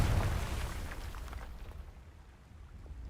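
A Confringo fire spell explosion in Hogwarts Legacy, a loud rumbling boom at the start that decays into a long, fading crackling tail.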